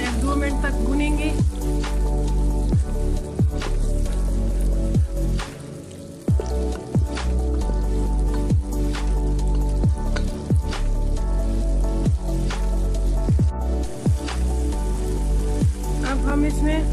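Tomato paste with garlic paste and chili fries in a pan, giving a continuous loud sizzle full of sharp crackles and spattering pops.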